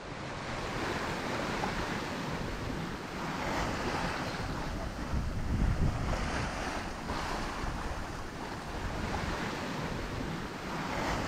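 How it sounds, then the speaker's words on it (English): Steady wash of waves and wind buffeting the microphone aboard a sailboat running under spinnaker at sea, a continuous, fairly loud roar with gentle swells in intensity and no talking. "Peaceful spinnaker sailing."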